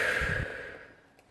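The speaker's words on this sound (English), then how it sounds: "taking a nice deep breath in and out" A single slow, deep breath drawn in and let out during a calm guided relaxation, heard close and soft with an audible airy exhale that fades away; no talking over it.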